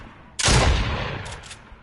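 A single loud burst of gunfire in a video game starts suddenly and then tails off into an echoing decay, followed by a couple of faint clicks.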